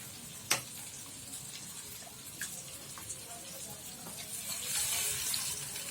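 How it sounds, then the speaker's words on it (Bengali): Water is poured into a cooking pot for aloo papad dalna, a faint close trickle that rises toward the end, with a few small clinks and taps. "যতটুকু জল প্রয়োজন ততটুকুই আমি জল দেব"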